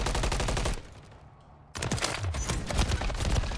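Automatic gunfire in a multiplayer shooter video game, rapid loud bursts of rounds that stop for about a second and then resume in a dense close volley.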